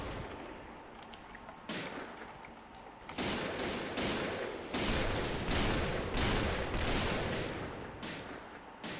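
Rapid bursts of video game gunfire from a first-person shooter, with sharp repeated shots that come in clusters and grow denser and louder toward the end, with no talk over them.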